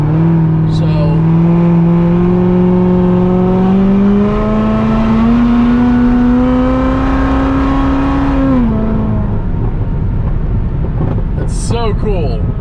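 A Nissan 370Z engine revs steadily higher on the highway, its loud droning note climbing in pitch for several seconds before dropping off sharply as the throttle lifts, with a voice briefly heard near the end.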